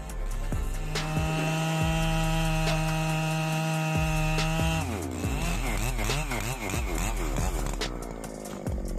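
A large West Coast chainsaw with a 42-inch bar cuts through a giant tree trunk, its engine a loud, steady droning whine that rises and wavers in pitch as it bites into the wood.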